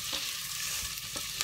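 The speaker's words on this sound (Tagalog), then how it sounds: "i-fry natin yung ating onion at saka yung garlic" Onion and garlic fry in butter in a pan for a potato and spinach soup, giving a steady close sizzle with a few soft stirring scrapes.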